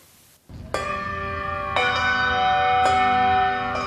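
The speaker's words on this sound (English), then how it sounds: "Stop ringing the bell!" Large church bells clang loudly at close range in a confined bell loft, struck four times in slow succession, each ringing tone hanging and overlapping with the next.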